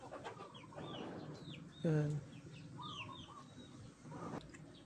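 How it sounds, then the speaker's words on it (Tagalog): Pet chickens cluck in a farmyard in Umingan, Pangasinan. A loud squawk bursts out midway among scattered softer clucks and chirps, and someone speaks briefly over them. "Ayan mga alaga nating manok mga vlogger"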